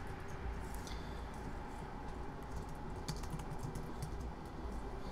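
Steady clicking of keys on a computer keyboard while writing web code, a fairly quiet run of close taps with no voices.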